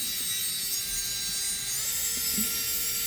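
An electric manicure nail drill whines at full speed, a thin steady high buzz with faint tonal hum and small bumps of contact, quiet and continuous.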